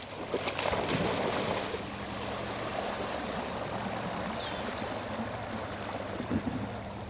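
Sea waves sweep up over coastal rocks and then recede, making a continuous loud rushing wash that holds steady with small surges and no voices.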